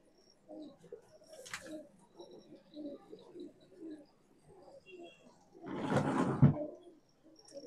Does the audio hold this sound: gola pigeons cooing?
yes